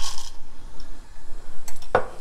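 Roasted, peeled green peanuts tipped into a pan while making kaara kuzhambu, a brief clatter and rattle of the nuts hitting metal, then a quiet stretch and a couple of sharper clinks at the end.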